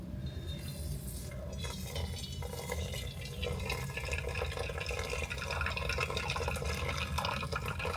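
Water trickles and splashes steadily into a vessel as pour-over coffee is made in an RV, a continuous close pouring sound with faint clinks, no talking.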